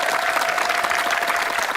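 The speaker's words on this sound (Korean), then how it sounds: "여러분 큰 박수 한번 부탁드리겠습니다" Steady, dense applause from a concert audience, loud and continuous throughout with a faint sustained tone underneath.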